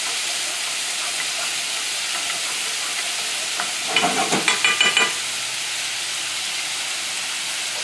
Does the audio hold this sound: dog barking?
no